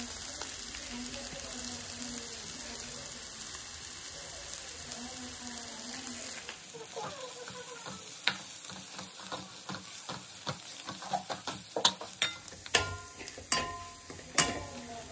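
Masala with capsicum and fenugreek leaves frying in a pan, a low steady sizzle at first, then sharp clinks and scrapes from stirring that grow louder toward the end; no voices.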